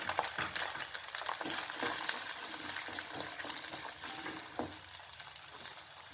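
Shallots with whole spices such as cloves frying in hot oil for a chicken gravy, giving a steady close sizzle with repeated scraping and stirring clicks and no talking.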